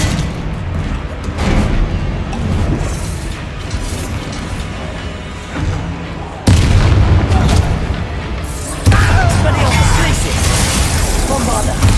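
Bombarda blasting spells going off in a magic-school video game: loud booming explosions land in succession, with two especially heavy blasts toward the end, amid constant excited voices and game clatter.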